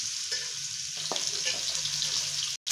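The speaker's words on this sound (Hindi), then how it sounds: "चिकन को इसके अंदर डालने के बाद अच्छी तरह से फ्राई कर लेना है।" Chicken frying in hot oil with garlic ginger paste in a pan for spicy chicken shami kabab, giving a steady close sizzle with a few light scraping stirs and a brief cut near the end.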